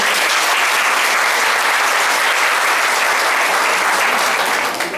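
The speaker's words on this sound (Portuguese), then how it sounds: "eu gostaria que vocês dessem uma salva de palmas para" An audience at a 2013 teacher tribute event gives a long, dense round of clapping, loud and steady throughout, easing off only slightly at the end.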